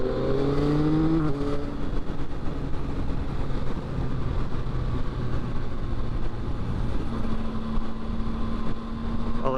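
2022 Yamaha XSR900 motorcycle riding on the road, an engine note revving and dropping at first and then settling into a steady hum under heavy wind and road roar.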